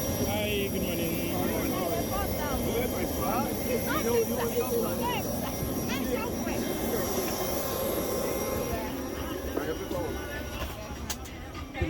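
Steady broadband roar of an Embraer ERJ 145 regional jet heard from inside the 50-seat cabin, operated by United Nigeria Airlines, with people talking briefly over the continuous engine and air noise throughout.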